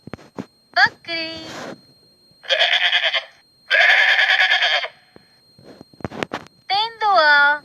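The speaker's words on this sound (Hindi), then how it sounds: "बकरी" Close, loud goat bleats come in a run of wavering cries, some short and some drawn out, separated by brief pauses, with no voices.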